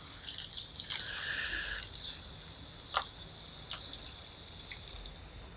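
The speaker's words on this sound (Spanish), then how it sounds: "Quiero que escuches ese sonido. Cómo empieza a hidratarse todo el sustrato." Water soaks into potting substrate after an amaryllis is watered, giving a very faint, close fizzing and crackling with scattered tiny pops and drips, heard alone without talk.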